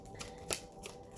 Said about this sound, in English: Like when I shuffled all these cards, I have never had such a clean shuffle.